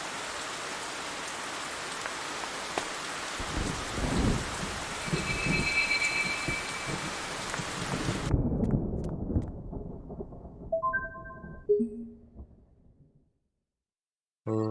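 Steady heavy rain pours down in a video game while thunder rolls low beneath it, then the storm cuts off abruptly midway, leaving a few faint tonal game sounds before near silence.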